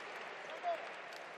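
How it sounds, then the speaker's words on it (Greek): PAOK fans at a basketball game applaud as an injured player is helped off the court. The clapping is a steady, faint, distant wash beneath a commentator's voice. "Χειροκροτήματα από τον κόσμο του ΠΑΟΚ στον Καμπερίδη"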